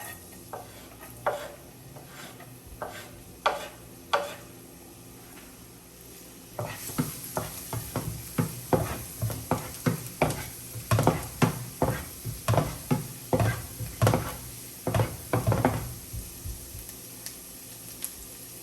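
Garlic sizzles steadily in a hot pan while a utensil scrapes and stirs it in a quick series of sharp, close clicks and rasps.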